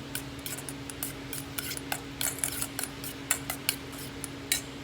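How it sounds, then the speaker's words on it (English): Tomato concassé for bruschetta being stirred and mixed in a bowl, giving light, irregular clicks and scrapes of a utensil over a low steady hum, with no talking. "So we're gonna go ahead and mix this and stir it together."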